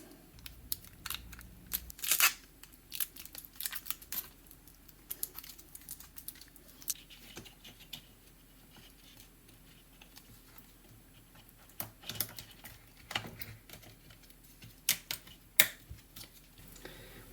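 Kapton tape being handled and wrapped around a Schumacher Li-po jump starter battery pack during repair, heard as scattered close crinkles, taps and sharp tape snaps in bursts with quiet gaps between, no talking.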